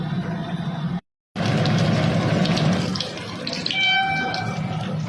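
Vegetable chops sizzling as they fry in hot oil, a continuous loud hiss and crackle close up, briefly cut off once, with faint clinking near the end.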